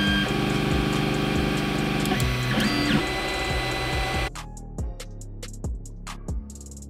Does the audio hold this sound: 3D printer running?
yes